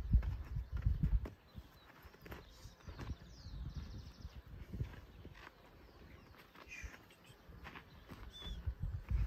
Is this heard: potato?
no